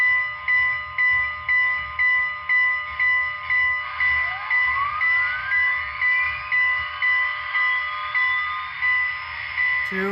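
The DCC Paragon 3 sound system on a Broadway Limited SP Cab Forward AC-5 4-8-8-2 model steam locomotive rings its bell in an even, repeating clang, with a hissing dynamo hum beneath and a rising whistle-like tone sweeping in partway through.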